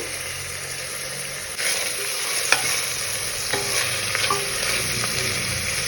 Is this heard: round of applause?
no